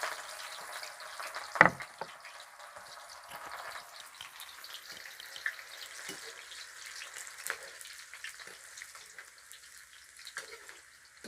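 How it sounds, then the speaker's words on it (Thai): Shallots fry in hot oil with a soft, steady sizzle, punctuated by occasional sharp clinks and spatters, fairly quiet and close. "แล้วทอดหอมหอมแดงก่อน"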